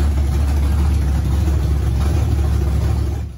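An LT1 car engine fitted with a MegaSquirt ECU, running after a no-start fault was fixed, a loud, steady low rumble close by that cuts off at the end.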